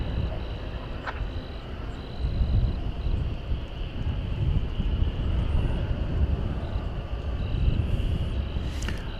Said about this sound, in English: Got another Frontier plane there.